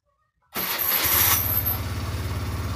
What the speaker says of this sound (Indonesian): Ya, ini motor saya nyalakan dulu.